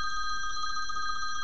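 A timer alarm set to an old telephone ring sounds as a continuous, fairly faint electronic bell trill, steady throughout with no voices over it.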